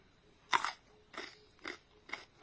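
Crisp crunches from biting into a fresh bitter kola nut, one loud bite followed by four softer, evenly spaced crunchy chews, close and alone with no talk.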